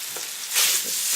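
Pork marinated in soy sauce drops into a hot pan with garlic and pepper for Thai spring roll filling. A loud, dense sizzle swells midway and holds steady, close and continuous, with no talk.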